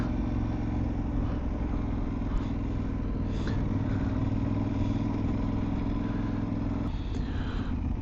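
A motorcycle engine runs steadily nearby with a constant low rumble and faint mechanical clatter, and no voices.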